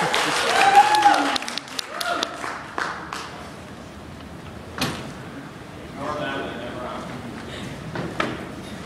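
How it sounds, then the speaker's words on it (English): A convention audience gives a burst of applause that fades within a couple of seconds, followed by scattered bumps, clatter and quiet room noise with speech. "can we give them a huge round of applause?"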